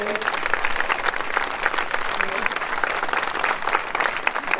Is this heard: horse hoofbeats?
no